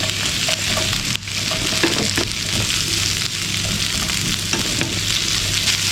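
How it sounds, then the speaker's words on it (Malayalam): Onion and cubed capsicum sauté in a hot pan for kadai chicken, giving a loud, continuous close-up sizzle with occasional stirring scrapes and no talking. "ഈ സവാളയെ 2-3 മിനിറ്റ് വരെ നമുക്കൊന്ന് വഴറ്റിയെടുക്കാം കേട്ടോ."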